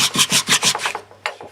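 Wood is hand-sanded with 180 grit sandpaper in a woodworking jig project: about six quick rhythmic rasping strokes back and forth, close and fairly loud, then a pause and a final stroke.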